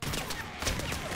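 Explosion of the player's own weapon in the video game ROUNDS, a loud sustained burst of blasting noise filling the whole short moment with no talk.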